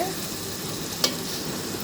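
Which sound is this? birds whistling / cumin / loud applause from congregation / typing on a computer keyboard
cumin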